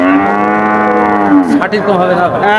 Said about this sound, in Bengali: একটা ক্রস জাতের বাছুর আপনারা দেখতে পাচ্ছেন